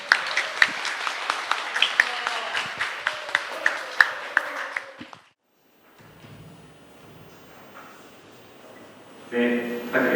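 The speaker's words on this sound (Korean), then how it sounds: "A 유닛 들어가실 때 큰 박수 부탁드립니다." An audience at a public presentation event claps for about five seconds, a dense patter of hands with sharper individual claps. The applause then cuts off into quiet room tone, and a voice begins near the end.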